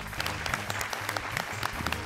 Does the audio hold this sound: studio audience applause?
yes